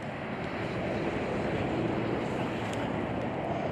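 Strong wind roars steadily on a cold day outdoors beside an interstate exit in Kingsport, Tennessee, a loud continuous rushing buffet with no breaks.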